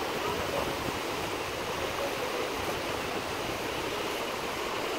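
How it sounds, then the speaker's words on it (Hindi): Fast, deep river water rushes loudly and steadily where the Alaknanda and Bhagirathi meet at Devprayag, forming a broad, constant roar with no talking. "अरे इस पानी का भाव तेज है, उस पानी का तेज है"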